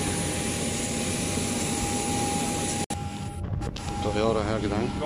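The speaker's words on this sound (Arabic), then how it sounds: "الطيارة يا جدعان" Steady broadband roar of a FlyDubai airliner's engines heard from inside the cabin, loud and continuous, with a brief dropout and a voice murmuring underneath toward the end.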